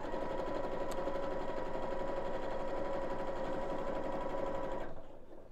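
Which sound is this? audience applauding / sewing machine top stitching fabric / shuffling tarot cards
sewing machine top stitching fabric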